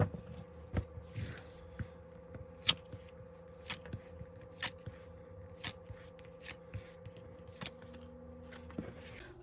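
Tarot cards being shuffled and drawn for a reading: soft papery riffles and scattered light card taps and slaps, quiet and close, with a steady low hum underneath and no talking.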